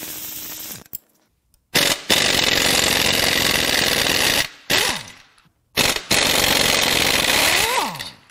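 Impact power tool hammering at the turbo manifold bolts on a Ford Taurus SHO EcoBoost 3.5 V6 during an engine teardown, loud rattling bursts broken by short silences, with pitch sweeps as the tool winds up and down.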